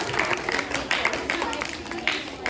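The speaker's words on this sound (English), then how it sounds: "big clap for all our captains" Applause at a school assembly for the house captains: a steady crowd of children clapping in a hall, with a few louder bursts standing out over the continuous patter.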